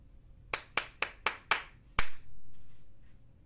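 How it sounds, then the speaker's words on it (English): Bare hands clap out a rhythmic pattern up close: five quick, evenly spaced claps, a short pause, then one final sharper clap with a lingering ring afterward. "I'm just going to make the clapping sound with my hands."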